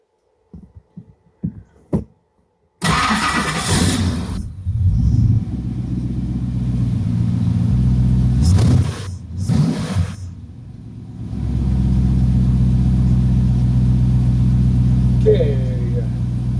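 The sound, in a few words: Lamborghini Countach engine starting and revving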